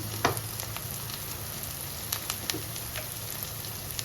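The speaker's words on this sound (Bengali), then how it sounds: "মশলা কষানোর সময় আমি দিয়ে দিচ্ছি গরম মশলা" Masala with sugar and garam masala sautéing in a pan with potol and prawns; a soft continuous sizzle close by, broken by a few light stirring knocks, no talking.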